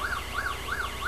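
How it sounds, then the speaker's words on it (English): A distant wailing siren sweeping up and down in a fast, regular cycle, steady and moderately faint with no talk over it. "More sirens."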